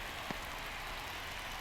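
Steady rain hisses in the MLB The Show baseball video game, a faint, even wash with no talk.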